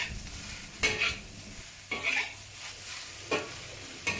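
Bacon and cabbage stir-fry over high heat in a wok or pan, with a steady sizzle and several sharp scrapes and tosses of the spatula at intervals, no talking.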